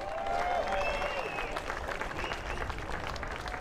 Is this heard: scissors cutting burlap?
no